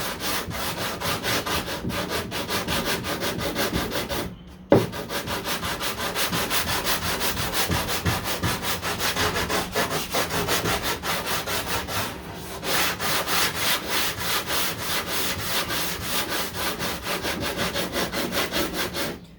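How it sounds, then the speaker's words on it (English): Body filler is sanded by hand on a 1969 Corvette C3, a continuous rapid back-and-forth scratching rasp with a brief pause near the start, close and alone. "So I'm just going to sand the top off, make it nice and flat"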